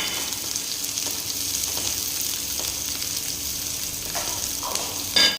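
Chopped onions sizzling in a hot pan give a steady, even crackle and hiss that holds at a moderate level throughout, with a short louder clatter at the very end.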